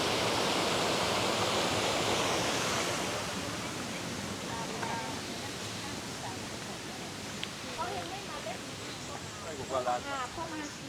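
Clear-water river, a klong in Surat Thani, Thailand, flowing with a steady, broad rushing hiss that is loud at first and eases slightly. Faint chirps and small splashy sounds rise near the end.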